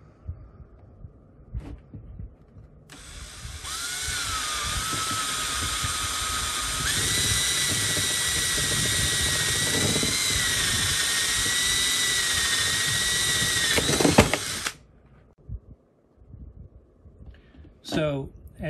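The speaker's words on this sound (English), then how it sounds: "I need a 5/8 inch spade bit to drill and be able to mount that through the lid there" A 5/8 inch spade bit drills a hole through the lid of a portable ham radio battery box, a steady high whine lasting about twelve seconds before cutting off, followed by brief clatter.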